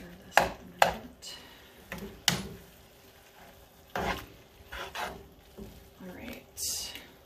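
Keto coconut curry chicken is stirred in a pan, with scattered scraping knocks and soft clatter of the utensil against the pan, while people talk nearby.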